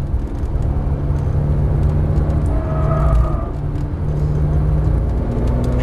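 A Porsche 911 Turbo S on a race track in Las Vegas, a loud, continuous engine drone and road rumble from inside the car under acceleration, steady throughout with no talk.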